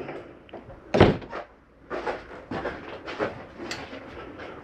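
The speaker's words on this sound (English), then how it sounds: "Put a cooktop back down." An RV cooktop cover in a 2020 Jayco Jay Flight 284BHS travel trailer is lowered back into place, giving one firm thunk followed by softer knocks and handling clatter nearby.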